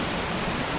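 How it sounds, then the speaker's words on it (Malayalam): Braemore Madama waterfall in an estate near Thiruvananthapuram, a continuous broadband rush of falling water, steady and fairly close, with no voices over it. "ബ്രൈമൂർ മദാമ വാട്ടർഫോൾ, മദാമക്കുളം, അവിടെ എത്തി നമ്മൾ"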